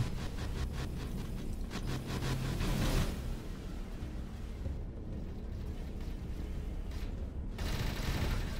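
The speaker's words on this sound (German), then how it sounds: "Ja, die schießen auf sich. Die schießen gegenseitig auf sich." Spaceships firing on each other in the space game Avorion: a dense, continuous barrage of rapid weapon fire and rumbling blasts, steady and moderately loud, with a few brief sweeping swells.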